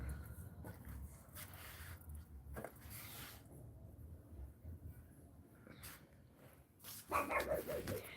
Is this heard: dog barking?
yes